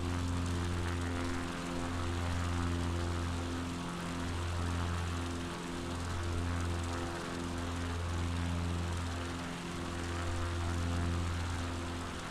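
Propeller aircraft engine in the game Flight Simulator 2020, a steady droning hum with a pulsing, slowly wavering tone, loud and continuous without talk.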